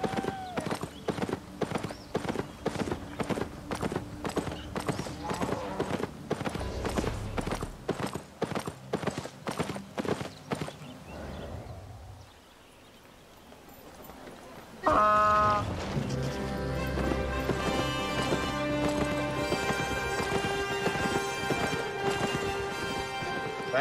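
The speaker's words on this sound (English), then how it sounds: "let's jump on our trusty steed" A donkey mount in the Albion Online game trots with steady clip-clop hoofbeats that fade into a soft lull. Denser music-like game sound then takes over.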